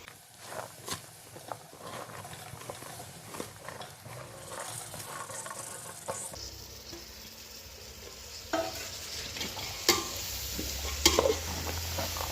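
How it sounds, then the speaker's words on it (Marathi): Mixed vegetables get stir-fried in a masala, a steady low sizzle running underneath while a spoon tosses them with scattered scrapes and knocks through the whole stretch. "आता आपण ह्या सर्व भाज्या ज्या घेतलेल्या आहेत त्या घालूया मसाल्यामध्ये ह्या भाज्या आपल्याला परतून घ्यायच्यात सगळ्या"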